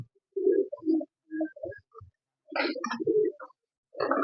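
Original racing pigeons, newly paired, give soft, throaty coos in short separate bursts with brief silences between, close and fairly quiet.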